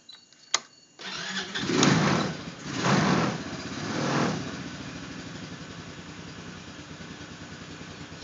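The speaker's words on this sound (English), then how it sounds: "Starts and idles pretty well." A click, then a small buggy engine cold-starts, cranking and catching, revving in a couple of surges before settling into a steady, close idle.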